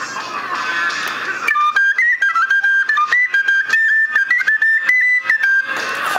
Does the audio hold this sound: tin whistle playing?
yes